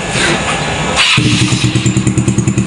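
A Yamaha Mio Soul 115 scooter, restored with a new regulator, starts up after about a second of cranking and settles into a steady, close idle with a regular pulsing beat.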